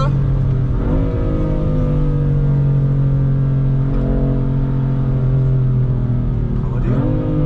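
BMW M4 engine droning loud and steady inside the car as it accelerates into a curve on snow, the pitch rising and easing through gear changes.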